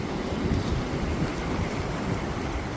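Ocean waves washing onto Boracay beach, a steady broad roar of surf with wind buffeting the microphone, continuous and fairly loud throughout with no voices.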